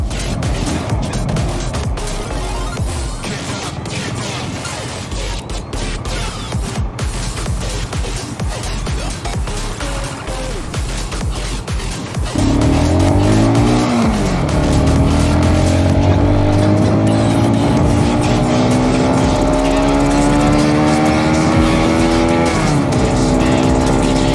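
A CBR 125 motorcycle ridden on a Ramadan iftar ride, engine droning steadily, then rising in pitch with clear revving and gear changes from the midpoint, loud and close throughout with no talk.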